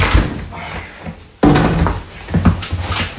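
A door swings open and slams shut indoors with a sharp, loud bang midway, set among casual household noise and a few light knocks and thuds.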